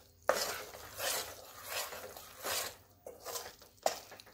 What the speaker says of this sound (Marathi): आपण तूप घालून ना असंच बॅटर पातळ व्हायला पाहिजे इतपत आपल्याला भाजून घ्यायचं.